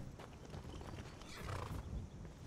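Hooves of a horse in the Skyrim video game clip-clop in a steady, quiet trotting rhythm, heard alone without talk.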